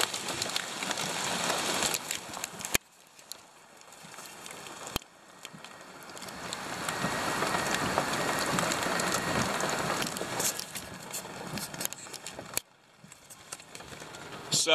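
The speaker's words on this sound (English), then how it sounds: "it's hailing right now, which is awesome." Hail falls hard during a storm, a dense rattling roar of stones striking surfaces that swells and eases over time, with a few sharp louder knocks and sudden drops in level.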